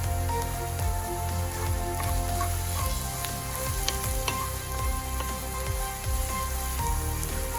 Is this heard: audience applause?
no